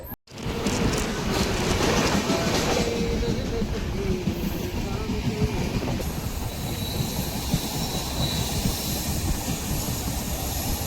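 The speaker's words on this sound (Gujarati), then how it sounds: "અત્યારે હવે આગળ થોડીક જ વારમાં આપણી ટ્રેન હવે ચાલશે." A passenger train runs on the rails on the Keshod to Bhaktinagar line, a steady loud rumble with rolling wheel noise and a brief wheel squeal, continuous and close throughout.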